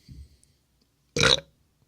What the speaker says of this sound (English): if I burp, it's a sign of a good beer